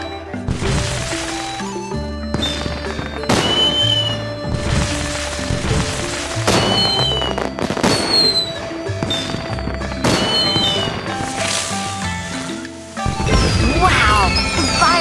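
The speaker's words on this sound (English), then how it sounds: "Tap here and you'll see an amazing fireworks display." Bursts of crackling, popping fireworks in a children's cartoon video game go off repeatedly over a busy music-like background, with sharp bangs and fizzing trails recurring throughout.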